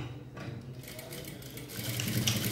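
A sewing machine runs steadily up close, stitching a seam on a skirt, a continuous whirring mechanical buzz that grows slightly louder toward the end, with no talk.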